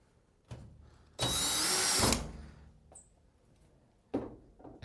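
A power driver runs screws into the cover of a Carimali Bubble espresso machine: one loud, steady whir lasting about a second, close up, with soft handling knocks before and after.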